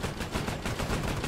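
Dense, continuous gunfire in the Arma video game, a loud sustained barrage of overlapping shots and bursts with no pauses, crowding the whole stretch.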